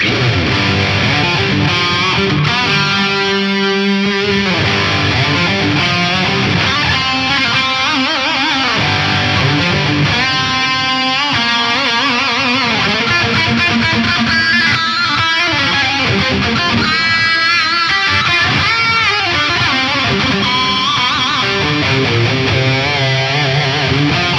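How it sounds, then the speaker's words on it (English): A loud electric guitar run through a gritty Axe-Fx III overdrive, between distortion and fuzz, with chords and sustained notes ringing out in a continuous, saturated performance. "It's like in between a distortion and a fuzz, and I don't know, a traditional overdrive."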